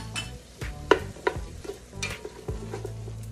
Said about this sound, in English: Just gonna kind of let this cook down for a little bit